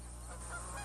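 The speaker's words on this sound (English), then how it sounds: "The flyway over the refuge is busy with birds on their long migrations" Geese honk in a short, steady burst from migrating birds over the Muscatatuck wildlife refuge in Indiana in early spring, set against a constant low hum with no voices.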